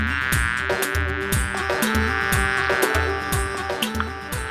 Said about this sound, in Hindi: ये वही शैतानी मक्खी जिसने निचोड़ा था मुझे गीले कपड़े की तरह।